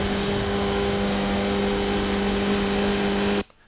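A Skip Barber race car on the Daytona moto track in iRacing holds a steady, loud engine drone in fifth gear, an even sustained hum that cuts off abruptly near the end.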